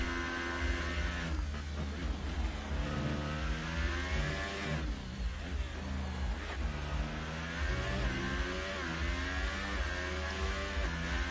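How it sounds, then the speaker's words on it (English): A McLaren Formula 1 car's engine in a racing game, heard from onboard during qualifying at Singapore. It screams steadily at high revs, its pitch rising and dipping through gear changes without a break. "As we ride on board with the McLaren here as he attempts to get through Q1."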